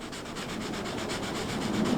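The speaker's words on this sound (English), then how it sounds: "The car's gonna sand it with very lightly with the 800 grits." Steady, rhythmic rubbing of 800-grit sandpaper on a Mazda Miata's paint, quick light back-and-forth strokes, close and continuous with no voices.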